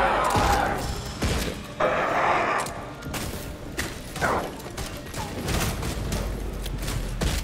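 Gunfire in the vampire-shooter video game Redfall comes as repeated sharp shots and thuds over busy game noise. A quiet voice speaks in places.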